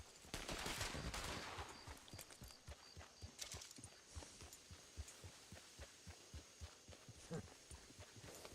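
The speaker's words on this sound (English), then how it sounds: "I hear gunshots and I don't like it." Horse hooves clip-clopping at a steady walking pace in a Red Dead roleplay game, with a burst of sharp gunfire early on and faint distant shots, all fairly quiet.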